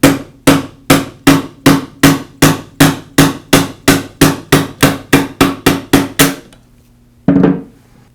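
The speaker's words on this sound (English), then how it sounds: "I'll use the hammer to tap the bearing free from the armature shaft" About twenty sharp, evenly spaced hammer taps knocking a bearing off the armature shaft of a Porter Cable sander, close and loud with a bright ringing metallic edge, then a pause and one duller knock.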